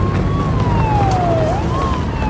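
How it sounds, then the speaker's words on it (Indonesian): Police sirens wailing outside during an action film scene, a rising and falling tone sounding over a steady background rumble, moderately loud. "mereka mendengar suara sirine polisi dari luar"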